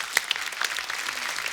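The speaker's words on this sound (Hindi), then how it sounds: "जोरदार तालियां हो जाए।" Studio audience applause at a Hindi comedy talk show, a dense burst of clapping that stays steady and fairly loud through the short moment, with no voices over it.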